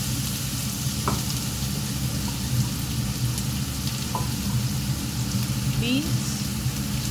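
Carrot, beans, onions and capsicum hit a very hot pan with browning garlic, giving a steady close sizzle with occasional light stirring clinks throughout.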